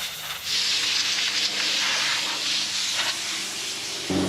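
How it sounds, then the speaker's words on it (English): Compressed air hisses steadily from a nozzle, blowing dust out of cracks in a wooden bench, a close, continuous rush of air lasting about four seconds. "Now we're gonna blow the dust out of the cracks"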